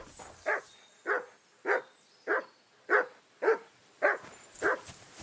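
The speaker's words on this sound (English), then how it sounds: "What are you barking about?" A dog barks in the video game Kingdom Come Deliverance 2, giving eight evenly spaced, medium-loud barks about one every half second against a quiet background.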